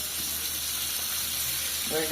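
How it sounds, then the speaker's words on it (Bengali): Food frying in a pan in a village home kitchen, a steady broadband sizzle and hiss running throughout at moderate level, with a brief clink near the end. "বন্ধুরা আমি এটা ভাজে নিই, তারপরে দেখাচ্ছি"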